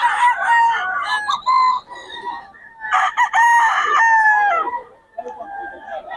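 Several roosters crow loudly in overlapping calls, with hens clucking between them, close by and busy like a crowded poultry market in Bocaue.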